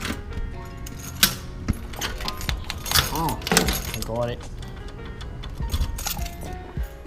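A bunch of keys jangles and clinks in someone's hand outside a car shop, several bright metallic rattles spread through the clip, mixed with a voice speaking briefly.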